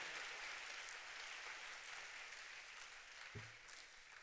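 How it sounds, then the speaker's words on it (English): Steady applause from a large audience at a polytechnic graduation ceremony, a continuous wash of clapping held at an even level throughout with no voices on top. "I think he deserves a big round of applause"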